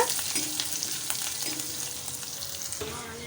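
Ginger paste and green chillies frying in oil while being stirred: a dense, close hiss of sizzling with occasional soft scrapes of the spoon, steady throughout.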